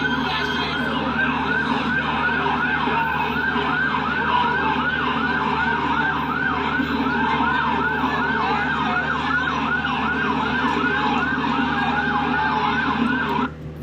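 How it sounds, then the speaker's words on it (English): Emergency vehicle sirens wail continuously in downtown Los Angeles during a street protest, a steady rising-and-falling tone that stays loud for the full stretch over dense city traffic rumble. "some sirens going off"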